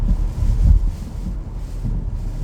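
Gusty wind on a high bridge after heavy rain buffets the microphone in low rumbling surges, rising and falling over a couple of seconds, with no voices.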